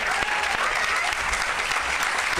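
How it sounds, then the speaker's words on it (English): Outdoor crowd at a warehouse ribbon cutting and grand opening claps for the new executive team board members, a dense, steady burst of applause held at full strength throughout, with no voices standing out. "One more time, clap it up for the new executive team board members."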